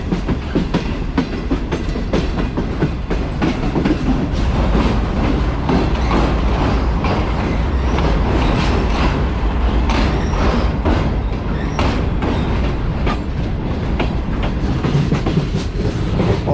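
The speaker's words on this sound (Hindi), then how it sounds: "हमारी ट्रेन अप्रोच कर रही है कोटरी जंक्शन रेलवे स्टेशन पर।" The Shalimar Express rolls toward Kotri Junction station, a loud continuous rumble with rhythmic clickety-clack of wheels over rail joints heard from on board throughout.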